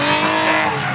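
A car drifting at full throttle with loud, sustained tire squeal and a roaring engine, close and continuous with no talk.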